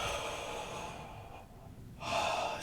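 A long, steady deep inhale during a yoga session, soft and close, followed by a brief pause and the start of another airy breath, with no talk.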